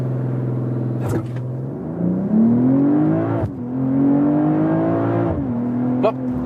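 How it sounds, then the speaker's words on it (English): A BMW M340i launches hard under launch control, its engine note climbing through the gears with clear shift breaks and a loud, close, rising rumble. Brief clicks sit between the shifts, and no one talks. "So that was the acceleration."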